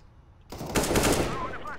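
A sudden burst of rapid gunfire in a video game erupts after a quiet moment, loud and dense, continuing in a fast rattling stream.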